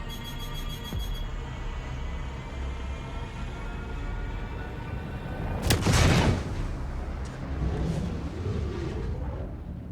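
A size 9 torpedo striking a Reclaimer ship in the Star Citizen video game: a sharp loud blast about midway, followed by a rumbling, decaying boom over a steady low engine hum, no talking.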